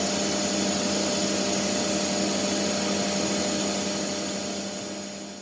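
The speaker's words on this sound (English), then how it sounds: "so I can drill the three holes" Steady, loud whine of a power drill boring holes in a metal piece, running continuously at constant speed, with a faint taper at the very end.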